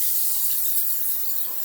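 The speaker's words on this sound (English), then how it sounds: "So I use an olive oil, non-stick spray, just regular." An olive oil non-stick cooking spray hisses in one continuous close burst as it coats a baking tin for homemade dog treats.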